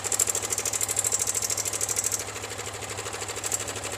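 A Yamaha R15 V3/V4 motorcycle engine idles with a timing chain tensioner issue, giving a rapid, even mechanical ticking over a low steady hum, louder at first then settling slightly quieter, with no talking.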